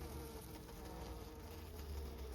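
Honey bees hum steadily around an active beehive. A dense, continuous buzz holds close by and fairly loud, with no pauses.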